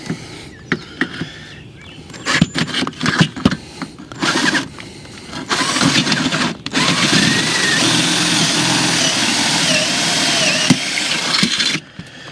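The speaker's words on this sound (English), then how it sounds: "We'll go ahead and drill the bottom hole through." A power drill bores the bottom hole through a post for a cable railing. It runs in short bursts at first, then settles into a long, steady, loud whine before stopping.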